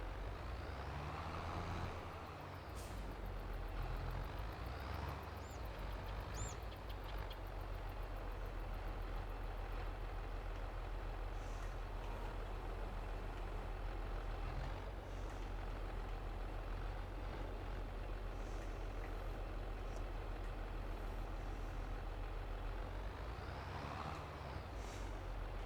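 A farm vehicle engine drones at a steady, loud level throughout while wheat is harvested in Farming Simulator 22, a continuous low rumble with little change and no speech.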